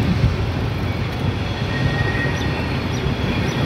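Passenger train at Mayiladuthurai railway station, a steady rumbling roar of carriages and wheels that stays loud and constant throughout, with no talk over it.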